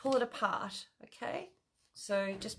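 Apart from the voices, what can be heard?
No everyday noises stand out.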